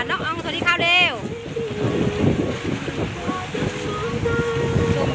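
A boat heading out on the sea for a coral snorkelling trip: a continuous rush of wind, waves and hull noise, loud and close, with voices calling out briefly near the start.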